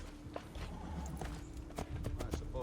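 Hooves clip-clop at a steady trot through a busy, noisy soundscape in the video game Assassin's Creed II, with occasional sharp clicks and knocks.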